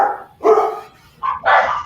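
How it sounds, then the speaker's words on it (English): A dog barks twice, close and loud, each bark a short rough burst with a brief pause between them. "Somebody's dog reacted to mine"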